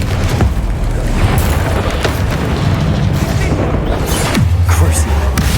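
Incendio fire spell cast in the game Hogwarts Legacy, a loud whooshing burst with booming impacts amid combat noise, a couple of sharp hits standing out, with a voice talking over it.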